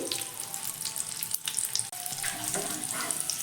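Snacks fry in hot oil in a pan, a dense, steady crackling sizzle heard close up, with one short dip partway through.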